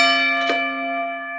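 A single bell strike opens a wrestling talk show, its clear metallic tone ringing on and slowly decaying, loud and close with no talk.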